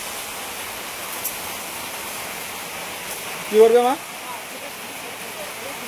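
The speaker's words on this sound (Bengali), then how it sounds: "আগে যেরকম বৃষ্টি হতো না, বন্যা হলে বলে ওরকম বৃষ্টি হচ্ছে।" Heavy monsoon rain pours down around a home, forming a steady, even hiss that fills the whole clip, while a voice briefly speaks near the end.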